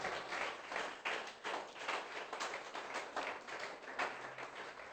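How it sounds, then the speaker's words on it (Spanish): A church congregation claps in praise for Christ during an evangelical sermon, a soft, continuous patter of hands that holds steady for several seconds without a voice over it. "Denle un aplauso a Cristo porque está en todas partes."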